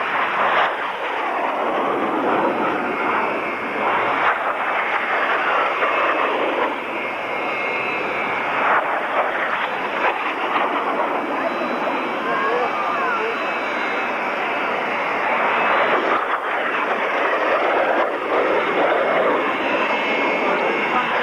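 Canberra jet aircraft departing an airshow at Cranfield, a loud, steady broadband roar that holds throughout with slight swells, continuous jet noise rather than a single pass.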